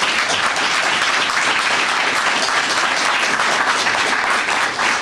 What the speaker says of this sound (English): please join me in giving our panel another round of applause